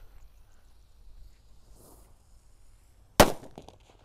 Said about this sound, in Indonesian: kali ini kita akan menyalakan mercon yang lebih besar, namanya Gorilla bosku.